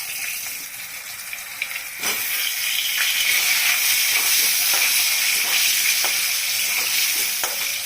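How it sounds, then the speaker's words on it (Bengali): Whole cumin seeds crackle in hot oil before potatoes go in, and the sizzle swells to a loud, steady fry with sharp pops and spatters, close up with no talking. "এখন আমি তেলে গোটা জিরা ফোড়ন দিচ্ছি আলুটা ছেড়ে দিচ্ছি"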